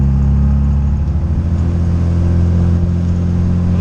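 A K-series engine in an MG Midget drones steadily while driving, a loud continuous low hum with a constant whine layered above it, without a break.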